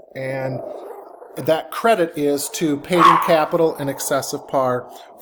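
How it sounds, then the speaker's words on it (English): A pet dog barks and growls toward the front door in a string of short yips. A person keeps talking steadily over them at close range. "You can probably hear my dog barking or growling."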